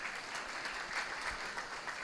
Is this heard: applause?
yes